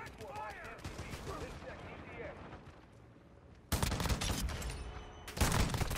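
Sentry gun in Modern Warfare II opening up in loud, dense bursts of rapid automatic fire, cutting in abruptly after a stretch of quieter game sounds and chatter.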